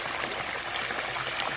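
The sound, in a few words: water streaming from garden water feature streamers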